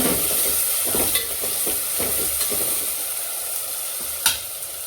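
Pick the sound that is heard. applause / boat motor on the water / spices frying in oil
spices frying in oil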